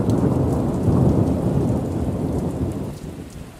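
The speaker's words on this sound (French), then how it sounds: "Il y a une tempête à Lyon." A heavy thunderstorm in Lyon, with dense rain pounding down and low rolling thunder rumbling throughout, loud and close, easing slightly near the end.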